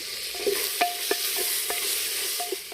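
Tomatoes and vegetables for paneer pulao frying in a pan outdoors in a village courtyard, with a constant bright sizzle and light spoon taps and scrapes spaced through it, close by.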